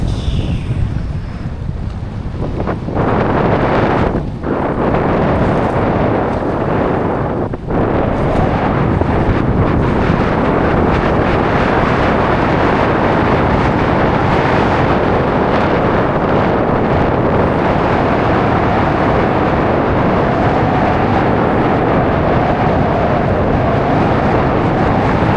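Strong wind buffets the microphone in a continuous loud roar, with a few sharp gusts early on and a steady rush throughout.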